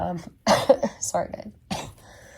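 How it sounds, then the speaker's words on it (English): Several harsh coughs come in quick bursts, close and fairly loud, with short gaps between them. "just had like a cough attack"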